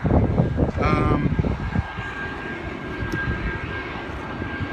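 A fixed-wing airplane passes overhead along the approach path to John Wayne Airport, a broad, steady engine rumble lasting throughout, with a person talking briefly near the start over the aircraft noise.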